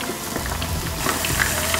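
Champignon mushroom stems stewing in a hot pan, giving a steady close sizzle and bubbling crackle with no pauses.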